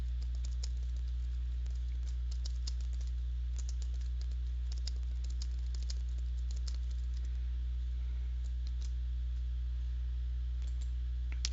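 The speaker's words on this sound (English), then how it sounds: "And I can type a comment in here." Steady clicking of computer keyboard keys as a comment is typed, with irregular bursts of keystrokes over a constant low electrical hum, fairly close and moderately quiet, no voices.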